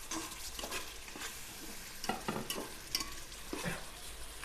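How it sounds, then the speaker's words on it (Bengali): Chicken and spices are stirred while frying in a rice cooker, with soft scraping strokes over a faint steady sizzle, close and quiet, no talking. "আমরা আবারও একটু নাড়াচাড়া দিয়ে দিব"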